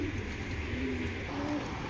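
A male racing pigeon coos in low, soft murmuring calls, close by, over a constant background hum.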